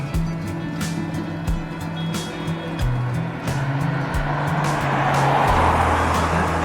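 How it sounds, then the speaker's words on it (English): A car approaches and passes on a road in Newfoundland early in the morning, its engine and tyre noise swelling to a loud rush near the end, with steady ambient noise underneath. "Oh, here comes a car."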